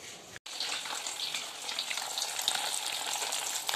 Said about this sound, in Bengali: এই যে মাছ ভাজছি, মাছটা ভাজাই খাবো আমরা